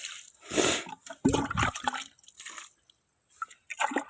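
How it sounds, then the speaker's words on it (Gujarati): Water tipped out of a drinking glass onto the ground, with two short splashing gushes followed by a few faint drips and quiet pauses. "તો પાણી આપણે ઢોળ નાખ્યું"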